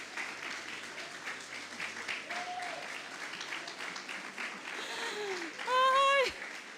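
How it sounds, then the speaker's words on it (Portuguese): A church congregation applauds a man during a sermon, a soft crowd of clapping mixed with cheering and a rising vocal whoop, while voices call out over it. "Dá uma salva de palmas a esse homem"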